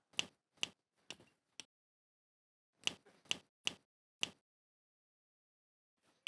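Finger snaps in a comic household scene, each one crisp and close: a quick run of four snaps, a pause, then another group of four and a last faint snap. The snaps stand alone in quiet with no talking.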